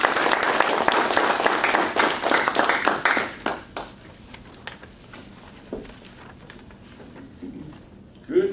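An audience at a Toastmasters meeting claps to welcome speaker Kirk Johnson, with dense, fairly loud applause for about three seconds that thins into scattered claps and fades out.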